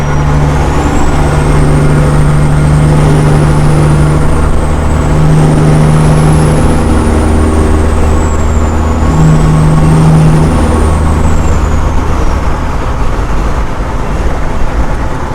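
A Peterbilt 379 semi-truck engine runs loud and close, holding a constant heavy diesel drone with a low, throbbing idle tone that swells at intervals, while a faint high whine drifts up and down above it.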